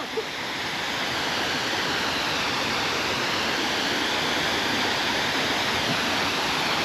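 Steady, full-bodied rush of a forest waterfall, a continuous broadband roar that stays even and close throughout with no voices.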